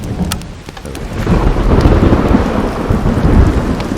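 Deep rolling thunder in a video game rumbles over a steady wash of heavy rain, swelling louder after the first second and staying dense throughout.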